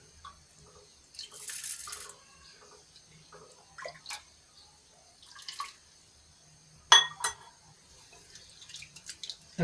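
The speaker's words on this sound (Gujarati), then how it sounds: "હવે એને સરસ રીતે મસળીને આપણે ગરમ પાણીથી ધોઈ લેશું।" Dal rubbed and washed in hot water, with sparse wet squelches, drips and small splashes, plus a few sharp clinks of a vessel, close and quiet with gaps of near silence.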